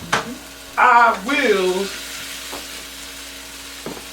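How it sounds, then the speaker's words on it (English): Food searing in a hot pan, a short loud hiss that bursts up and then settles into a softer steady sizzle, with a few faint clinks and a brief voice over it. "So go ahead and sear off. You hear that sizzle?"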